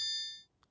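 A single bright electronic ding opens loud with shimmering high overtones and decays smoothly over about half a second, followed by a faint tiny click.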